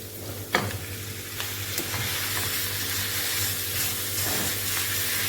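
Minced beef and onion sizzle steadily in hot oil in a pan, a continuous close frying hiss with occasional scrapes and clacks of stirring.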